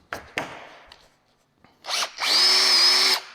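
A power drill bores out a hole in fiberglass on a truck interior. A few clicks and short revs come first, then a steady high whining run of about a second, close up with no talking.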